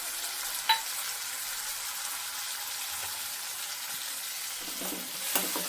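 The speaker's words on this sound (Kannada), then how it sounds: "ಟೊಮೊಟೊನ ಹಾಕ್ಕೊತಾ ಇದ್ದೀನಿ." Tomatoes frying in a pan give a quiet, steady sizzle, with a couple of brief scraping clicks as they are stirred, close by and with no talk.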